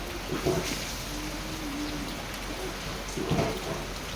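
Heavy rain pours steadily over a village in Laos, a dense continuous hiss with two brief louder splashing bursts near the start and end.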